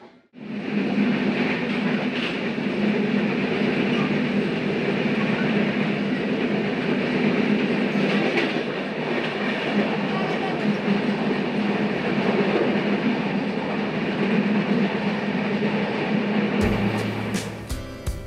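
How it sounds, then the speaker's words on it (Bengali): The Panchagarh Express, a Bangladeshi intercity train, passes through Joydebpur Junction without stopping. From on board, a loud, continuous rolling rumble carries steady clickety-clack from the wheels, then shifts abruptly at the very end. "সরাসরি কিন্তু থ্রোপাস হয়ে এখান থেকেও যদিপুর ছেড়ে চলে যাচ্ছে আমাদের ট্রেনটি"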